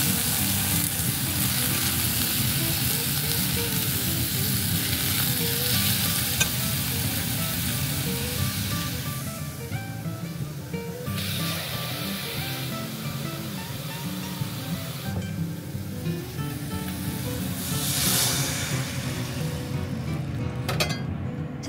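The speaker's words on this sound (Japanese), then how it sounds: "ナスとネギに軽く焼き色がついてきたらお水を入れます" Water poured into a hot pan of frying eggplant and green onion sets off a loud, steady sizzle and hiss that keeps going throughout, with a few brief surges and clinks along the way and no one speaking.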